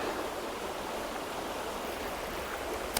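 Broad steady rushing of river water squeezing past four large rocks midstream, a continuous close churn with no voices.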